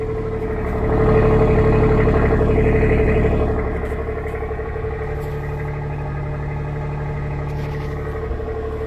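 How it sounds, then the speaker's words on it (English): A Ford F-150 pickup idles in snowy conditions, heard from its rear exhaust as a steady, loud low-pitched engine drone with a brief swell early on before settling into an even hum. "let's go check out what that rear exhaust sounds like before taking this little snowy drive."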